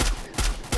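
Three quick gunshots from the Free Fire battle-royale game land in tight succession, loud and punchy, in a burst ending on a headshot.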